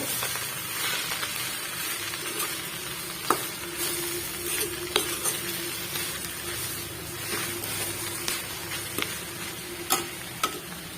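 Rajagiri greens palya stirred in a pan over a low gas flame, with a steady sizzle of frying and repeated sharp ticks and scrapes from the spoon against the pan, close and alone.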